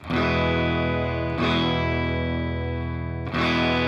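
Electric guitar through a ToneX pedal patch with a BOSS GT-1000, sustained distorted chords ringing loud and steady with effects, restruck twice across the loop.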